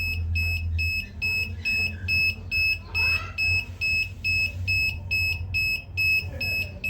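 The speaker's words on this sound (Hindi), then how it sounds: "ये बीप शुरू कर देता है, बैटरी लो हो गई है।" A homemade UPS kit's low-battery warning: a steady train of sharp, high-pitched electronic beeps repeating at a quick regular rhythm, close and loud over a low electrical hum.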